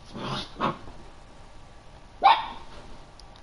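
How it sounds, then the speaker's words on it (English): Two quick barks from a dog, then a pause and a single louder bark, each sharp and short against a quiet room background. "Oh, my dog's barking."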